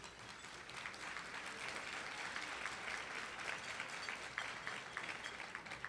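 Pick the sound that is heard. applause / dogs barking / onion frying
applause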